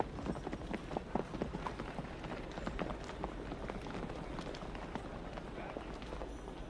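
Horse hooves clip-clop in a quick, busy patter, close and continuous under a dense rustle of background activity.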